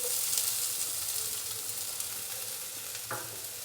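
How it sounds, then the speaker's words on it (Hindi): Chopped onion fries in cooking oil in a pan with a loud, steady, close sizzle and hiss, one brief knock of a stirring utensil near the end. "प्याज को हमने हल्का सा फ्राई कर लेना है 1 से 2 मिनट के लिए, ताकि प्याज थोड़ा सा नरम हो जाए।"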